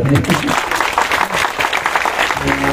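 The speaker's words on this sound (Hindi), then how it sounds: "तो ताली बहुत जोर से" Loud applause from a crowd at a spiritual satsang gathering in Khalghat, Madhya Pradesh, a dense continuous clatter of clapping that fills the whole moment, with voices mixed in underneath.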